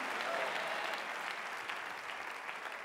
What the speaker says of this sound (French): acclame très fort Jésus, mon frère